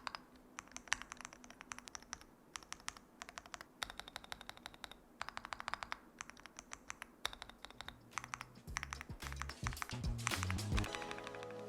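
Rapid clacking keystrokes on a Melgeek MADE68 Ultra V2 gasket-mount mechanical keyboard, with dense bursts of close, crisp typing that speed into a busier flurry near the end, with no talking.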